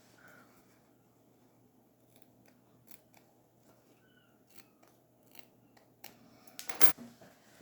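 Scissors trim excess bias binding fabric from a sewn neckline, several faint, crisp snips spread through a quiet room and ending in a louder cut, with no talking.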